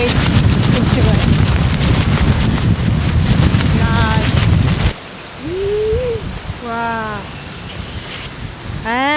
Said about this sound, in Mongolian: Тэгсэн чинь нэлээд бороо орж байна.